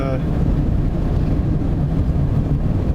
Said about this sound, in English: it's very windy today, the way it's a head-on wind